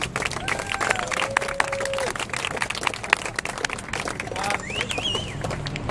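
Outdoor applause rises for David Shoebridge on the Town Hall steps at a global march for lions, with scattered clapping and cheers from the crowd, birds chirping above, and some talk underneath.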